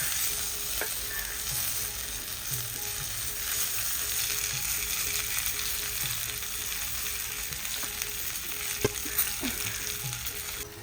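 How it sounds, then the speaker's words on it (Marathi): Stuffed bangda mackerel, filled with masala, fries in a pan with a soft, steady sizzle and a few faint clinks and scrapes, all fairly quiet and with no talk. "ज्या बाजूला मसाला भरला आहे ती साईड पण आपण भाजून घेऊया"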